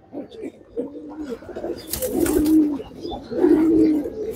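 Pigeons at a championship racing-pigeon tournament coo in repeated low, rolling phrases, two fuller bursts standing out near the microphone over faint background noise.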